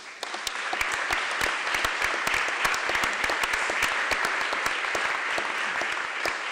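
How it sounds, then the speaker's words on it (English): Sustained applause from a conference audience at a closing session, a dense, even roar of many hands with distinct sharp claps popping out near the front throughout. "I ask you for a round of applause to them"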